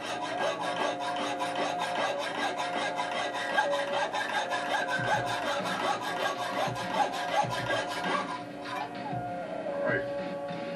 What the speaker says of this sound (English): That's a lot of sawing.